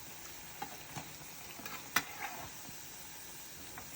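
Cabbage fritters frying in hot oil give a soft, steady sizzle with a few light clicks and taps of a utensil, heard close up with no talk.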